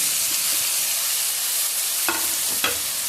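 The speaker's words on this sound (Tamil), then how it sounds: "பாருங்கள், வெங்காயம் இந்த மாதிரி சவுண்டு வரணும்" Onions frying in oil for a fish kuzhambu, giving a loud, steady sizzling hiss broken by two quick stirring clatters near the end.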